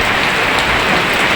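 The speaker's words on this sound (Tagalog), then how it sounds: "kita nyo ang lakas ng ulan" Heavy rain pouring down loud and close, a dense continuous hiss of drops on surfaces with no pauses.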